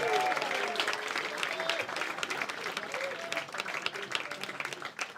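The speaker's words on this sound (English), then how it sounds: "Come on, everybody. Give us a cheer." A comedy club crowd applauds and cheers steadily throughout, with dense clapping, scattered whoops and voices mixed into the roar.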